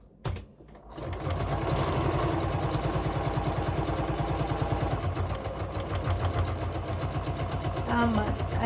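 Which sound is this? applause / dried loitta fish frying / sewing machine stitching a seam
sewing machine stitching a seam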